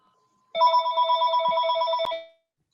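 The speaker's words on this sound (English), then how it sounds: "His phone's ringing." A telephone rings with a steady electronic trill in one continuous burst of about two seconds, loud and close in a quiet meeting room, then stops abruptly.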